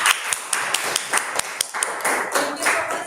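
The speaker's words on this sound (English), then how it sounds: "Let's give a big round of applause to Miss Angelica." Audience clapping at a public speaking event, a brisk spatter of claps lasting a few seconds, fairly close and with no speech over it.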